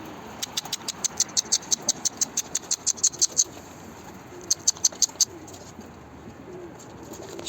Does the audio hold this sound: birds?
yes